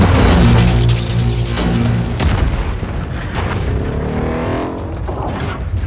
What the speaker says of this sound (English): Plasma cannon!